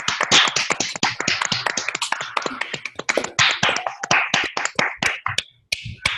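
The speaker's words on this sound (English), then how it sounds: "Let's give her a round of applause" Scattered applause from a small online audience after a student's talk, many sharp irregular claps over a few seconds, close and fairly loud, tapering off at the end.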